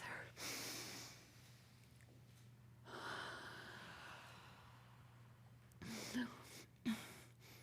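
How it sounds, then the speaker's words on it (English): A group of people draws a deep breath together and lets it out, soft breathy inhales and exhales over a low steady hum, ending with a couple of short louder breaths. "Let's all take a deep breath together"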